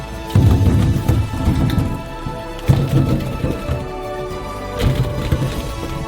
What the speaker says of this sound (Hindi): पानी से भरते हैं।